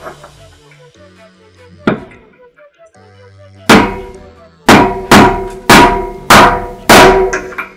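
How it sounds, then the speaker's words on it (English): A hammer strikes a deep socket to drive a bicycle wheel bearing into a DT Swiss hub. The close, ringing metallic blows grow from single hits into a steady series of about five loud impacts, with some earlier faint clinking and tonal ringing. "You're going to hit this till you feel it bottom out."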